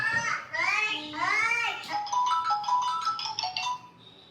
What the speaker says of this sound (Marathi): आता त्यांचाच फोन आहे वाटतं